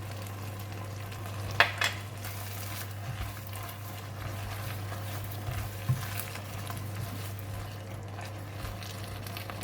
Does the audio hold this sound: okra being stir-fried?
yes